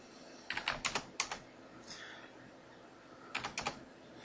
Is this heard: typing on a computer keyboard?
yes